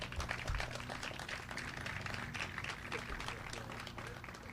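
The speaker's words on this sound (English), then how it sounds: "we could all clap." An audience at a Bloomfield event for Governor Murphy breaks into steady applause, a dense patter of many hands at moderate distance that fades slightly toward the end.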